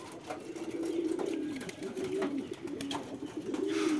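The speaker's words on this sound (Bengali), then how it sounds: "এই কবুতরটা দেখেন জোর নিচ্ছে" Pigeons in a loft coo in low, throaty rolling calls during courtship as a pair bonds before laying, the cooing repeating steadily and close by with faint background noise.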